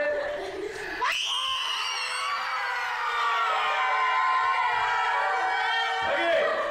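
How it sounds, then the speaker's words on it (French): A group of people at an improvisation class warm-up shout a loud, sustained vowel A together, one strong sudden onset held for several seconds, with a brief second swell near the end. "il y a une différence entre crier puis faire un « A » fort"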